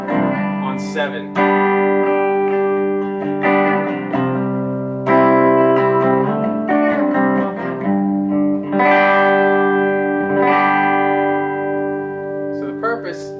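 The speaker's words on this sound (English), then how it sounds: "There's some reverb you can hear. It's coming straight from the amp." Electric guitar played through a Fender Super Champ XD amp with the amp's own reverb set on 7 and no pedals, ringing chords and picked notes sustaining with a wet, echoing tail.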